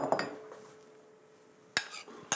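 Metal utensils clink against a bowl while salad ingredients are mixed in a kitchen: a few quick clinks at the start, a quiet pause, then two more sharp clatters near the end, faint overall.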